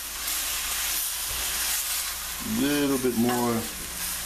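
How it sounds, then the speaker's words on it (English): Cow peas and beef sautéing in a hot pan with za'atar, a steady close sizzle and hiss throughout, with someone speaking briefly over it near the end. "sauteing to get the flavors going here."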